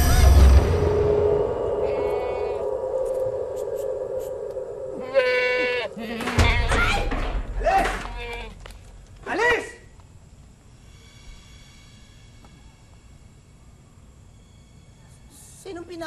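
A goat bleats several times in short wavering calls near the microphone, mixed with people talking and some background noise, then things fall quieter.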